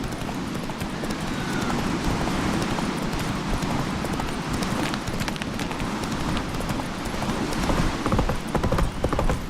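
Galloping horse hooves from Roach in the video game The Witcher 3, a steady fast clip-clop that runs unbroken over a dense, loud outdoor ambience.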